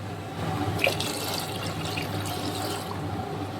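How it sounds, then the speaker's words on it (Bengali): Water poured over crushed lentils in a pot while cooking a vegetarian winter-vegetable dal, a steady soft watery wash throughout with no speech. "ডালটা ভালো করে ফাটিয়ে নিয়েছি, এবার দিয়ে দেবো পরিমাণ মতো জল।"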